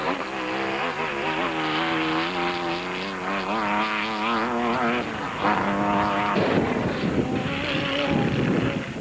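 A crisp-sounding 2-litre Porsche Raceco rally car, a Roof of Africa 1996 Class B entry, revs loudly and close with a rising, wavering engine note that drops then surges again with a rougher tone.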